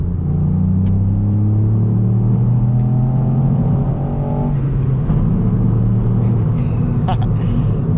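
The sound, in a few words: Ford Fiesta ST accelerating on a straightaway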